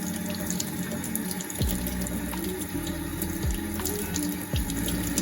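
Tap water runs steadily into a sink while pumpkin seeds are rinsed through a sieve, a constant close splashing rush with a few low thumps and no voices.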